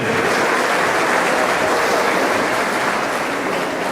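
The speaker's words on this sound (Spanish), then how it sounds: "denle un aplauso" Church congregation applauding together after a pastor's call, a dense, steady wash of clapping filling the room at close range for the full length, with no voices standing out.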